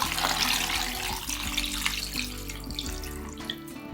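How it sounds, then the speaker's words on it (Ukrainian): Cold water runs steadily and loudly from a tap onto chicken feet, splashing into a container nearby with a continuous rushing hiss. "Тепер заливаю їх водою, холодною."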